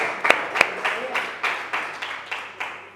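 A church congregation claps during a Spanish-language evangelical service, a few sharp early claps giving way to loose, rhythmic group clapping in regular pulses, with a voice speaking over it.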